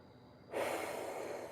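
A sudden loud exhale bursts in after a quiet start, heavy breathing during a fitness workout routine, close to the mic and sustained like a long forceful breath.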